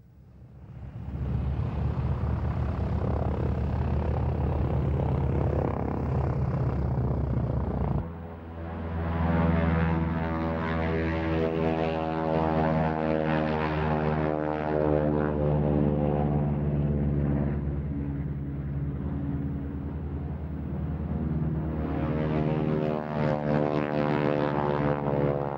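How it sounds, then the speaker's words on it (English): Two Harvard propeller aircraft fly past at a Duxford air show, a loud sustained droning engine roar with a rising and falling pitch as they pass, close and dominant throughout. "the rare sight of both of Boscombe Down's Harvards"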